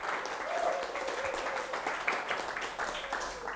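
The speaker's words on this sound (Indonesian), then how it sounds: "tepuk tangan untuk kita semuanya" Applause from a university class at the end of a lecture: a steady, faint patter of many hands, somewhat distant, lasting the whole stretch without a clear break.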